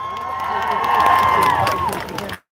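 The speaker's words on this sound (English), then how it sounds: "Give her a round of applause, everybody." Audience at a protest rally for Palestine applauding and cheering a speaker, loud crowd noise with whoops and shouts over clapping, building then cutting off abruptly near the end.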